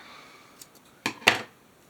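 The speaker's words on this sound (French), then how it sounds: "Alors, je veux du scotch double face. Mon ciseau et mon scotch." Two quick snips of scissors cutting double-sided tape close by, a sharp cut followed by a slightly longer one, in an otherwise quiet room.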